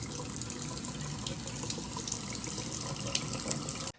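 Water runs steadily from a tap inside a log cabin in Minnesota, a continuous close splashing and hissing stream that fills the whole stretch and then cuts off abruptly at the end, with no voices.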